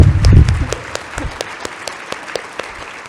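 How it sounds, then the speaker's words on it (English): A burst of clapping and cheering swells up, then fades quickly into a few scattered claps and isolated taps. "Can we just give a round of applause for them?"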